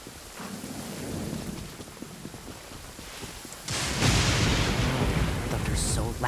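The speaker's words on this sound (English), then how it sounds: "Thunder's so loud." Rain and loud rolling thunder in the video game Genshin Impact, a steady rain wash under rumbling thunder that swells into a louder crack and roar partway through.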